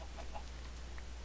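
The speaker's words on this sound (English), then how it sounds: "So you guys may notice there are quite a few chickens around this place." Chickens in the Groundfox game give a few soft, scattered clucks over a steady low hum, faint and distant with no talking.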